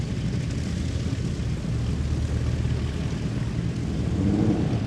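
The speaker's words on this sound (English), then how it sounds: "Here he comes, right to left, taking off on the hard runway, really nice and low start." Fixed-wing aircraft taking off low along a hard runway at the Sywell Airshow 2024, its engine a steady, loud drone that holds throughout and swells slightly near the end.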